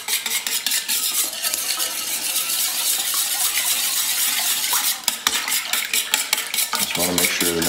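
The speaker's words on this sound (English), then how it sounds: "I'm gonna use my little whisk, and I'm gonna mix this together so the eggs and everything is mixed real well." Eggs and vanilla whisked together in a bowl for scones, a loud, close, continuous rapid whisking that breaks into distinct rhythmic taps against the bowl toward the end.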